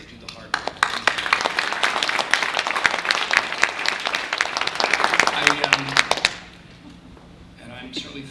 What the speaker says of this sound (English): And really a round of applause for all the people that do the hard work.